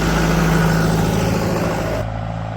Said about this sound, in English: I think I'm about to be run over by a tractor.